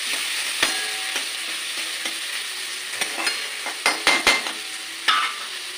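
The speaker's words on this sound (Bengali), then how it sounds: "আলু পেঁয়াজটা একসাথে ভালো করে ভেজে নেব।" Diced potatoes and onions fry together in a pan for muri ghonto, giving a steady sizzle broken by several sharp scraping clicks from a stirring spoon, close and moderately loud, with no talking.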